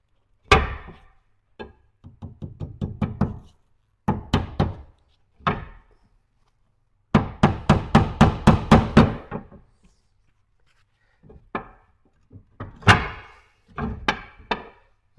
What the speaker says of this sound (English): Obviously, I've got to take my hammer out now.